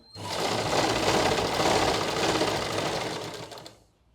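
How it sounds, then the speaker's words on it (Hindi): A sewing machine stitches a salwar waistband (nefa) in one continuous loud whirring run that starts abruptly and winds down near the end. "अब यहाँ तक सिलाई लगाएंगे।"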